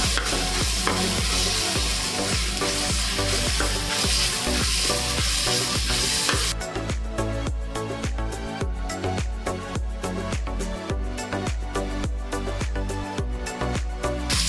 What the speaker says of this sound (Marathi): लसूण भाजली, वास यायला लागला, सुगंध लसूण भाजल्याचा।